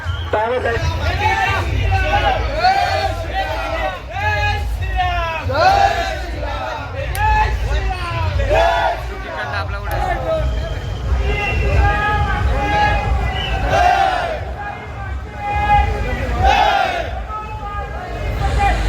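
Palanquin bearers' crowd cheering on a pilgrimage to Ekvira, a loud, continuous roar of many voices shouting and chanting in rhythmic bursts over a heavy low rumble, close and sustained throughout.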